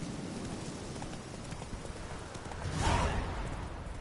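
A horse gallops in The Witcher 3 video game, a continuous run of hoofbeats under a rain-like wash, swelling louder near the end of the short stretch.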